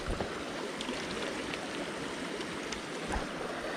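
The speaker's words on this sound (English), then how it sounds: "this water's up, so this water's flowing pretty hard" Swollen creek rushing hard over rapids, a constant broadband roar of fast water close by with small splashes, no voices.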